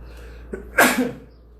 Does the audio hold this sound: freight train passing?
no